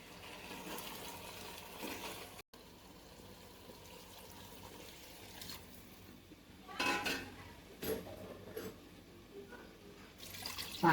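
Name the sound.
stirring gourd pulao while adding water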